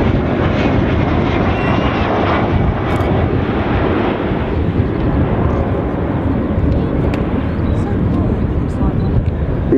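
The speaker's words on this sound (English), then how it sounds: "So Vulcan coming back in towards us." An Avro Vulcan bomber jet roars past at the RIAT airshow, a loud, continuous broadband engine rumble filling the whole stretch while a commentator talks over it.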